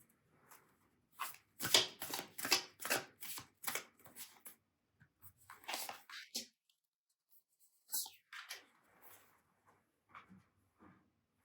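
Tarot cards being shuffled by hand in a run of quick, crisp riffles and slides, with a pause and a few softer shuffles after; a voice speaks briefly between bursts.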